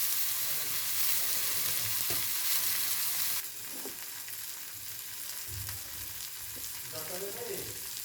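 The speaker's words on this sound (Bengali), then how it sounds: "এরপর আমি দিয়ে দেবো সেদ্ধ করে রাখা সয়াবিন।" Boiled soya chunks tipped into a hot pan and stirred, a steady loud sizzle with scraping stir strokes and a few soft clunks, the hiss dropping slightly once the chunks go in.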